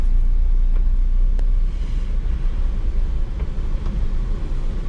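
A car pulls off in second gear into a narrow lane, with a low steady engine rumble close by that eases slightly after the first couple of seconds, and no talk.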